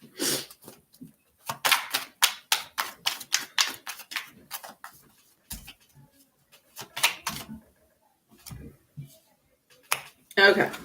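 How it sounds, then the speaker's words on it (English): Tarot cards are shuffled in quick bursts of crisp, rapid riffling clicks that start and stop in uneven spurts, close and fairly quiet. "Let's shuffle again."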